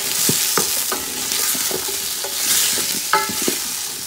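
Provisions and plantain stirred in a pot for Guyanese metemgee, with a spoon scraping and knocking against the pot in irregular strokes over a steady low sizzle, close and clear with no talking.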